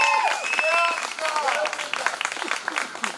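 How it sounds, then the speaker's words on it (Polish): An audience at a music event in Tychy applauds the festival-winning band. Dense clapping with some cheering rings out close and steady, then slowly thins, while voices carry underneath. "I tu są przewidziane właśnie oklaski."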